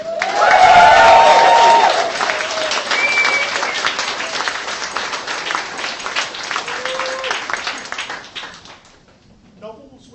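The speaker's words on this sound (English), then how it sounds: "a round of applause, please, for all of our shortlisted authors" A loud wave of audience applause for shortlisted authors at the 2016 Arthur C Clarke Award swells at once, then settles into steady clapping that fades out.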